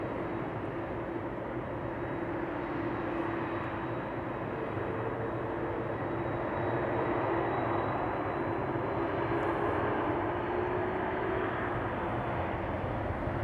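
Atlas Air aircraft taxiing at Amsterdam Schiphol, a steady broadband engine rumble with a faint high whine holding at even loudness throughout, distant and unbroken.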